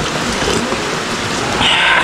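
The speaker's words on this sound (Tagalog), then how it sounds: "Umuulan." Rain falls in a steady, dense hiss close by, even and continuous with no voices over it.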